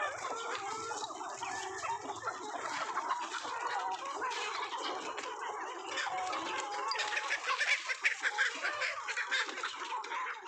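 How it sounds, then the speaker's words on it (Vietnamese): A flock of farm chickens clucks and chatters continuously in cold northern Vietnamese winter weather, a dense, busy layer of overlapping calls with no talking. "thời tiết rất là lạnh mà các bạn nhìn thấy gà của Trang cực kỳ là khỏe"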